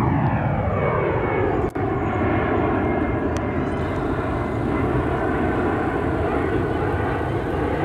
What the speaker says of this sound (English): This plane is flying straight to Los Angeles International Airport, LAX.